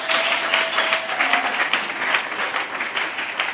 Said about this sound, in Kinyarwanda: nibahaguruke nabo tubakomera amashyi menshi cyane